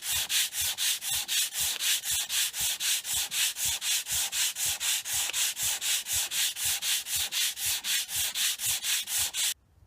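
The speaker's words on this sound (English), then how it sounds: "put some sandpaper on it, and you basically put it across the whole thing like that" Sandpaper is worked back and forth across an off-centre sycamore wood bowl. The scraping strokes are loud, close and fast, about four per second, in a steady rhythm that runs for nearly ten seconds before stopping abruptly. No one speaks.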